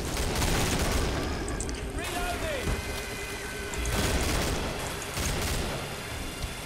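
Gunfire from the video game Killing Floor, shots crackling amid a busy wash of game noise, with a player talking throughout.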